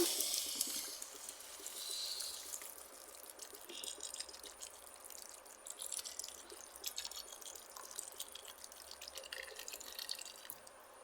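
Water pours into a pot of tomato chana dal, a steady, soft, trickling rush that runs for the full stretch at low volume, with no voices.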